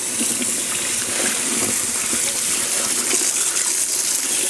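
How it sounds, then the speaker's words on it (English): Water gushes steadily from a tap as dyed dance fabric is rinsed under cold running water, a continuous close splashing wash with no voices. "Once you rinse it with cold water, it stops the activation."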